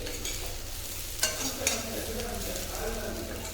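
Potatoes stirred in a hot pan while frying for a simple Tamil-style potato fry, with a steady close sizzle throughout and a couple of sharper scraping strokes from the spoon partway through.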